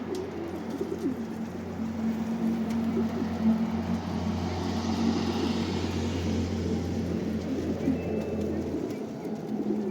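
Soft pigeon cooing in a low repeated pattern sits over a steady outdoor rumble, with a faint drone resembling a distant propeller aircraft running beneath it.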